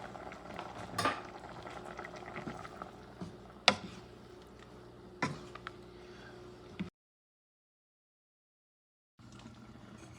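A spoon stirs black bean and sausage stew in a pot, with clinks and scrapes against the metal over a low bubbling simmer, then a stretch of silence before the soft bubbling resumes.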